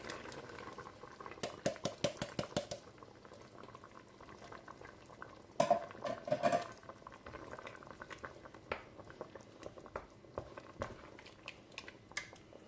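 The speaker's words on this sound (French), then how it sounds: "Je mélange." Turkey osso bucco with tomato is stirred in a pot, giving a steady bubbling simmer broken by bursts of scraping and clinking spoon strokes near the start and middle. No one speaks.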